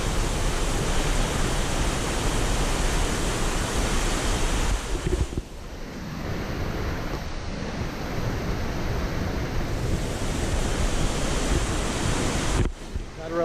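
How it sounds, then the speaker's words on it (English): Latourell Falls pours steadily into Latourell Creek beside a bridge, a loud, continuous broadband rush of falling water that dips slightly midway and never pauses. "Latourell Falls and Latourell Creek."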